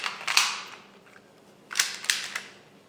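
An airsoft gun fires in short sharp snaps, one crack early, then a pair of quick shots about a second later, each followed by faint mechanical clatter in a quiet space.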